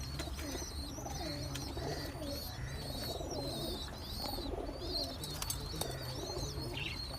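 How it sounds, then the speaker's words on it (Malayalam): Pet pigeons coo in soft, repeated rounds, close by and steady throughout, with a few light chirps mixed in and no talking. "ഇത് വേറൊരു പ്രാവാണ്."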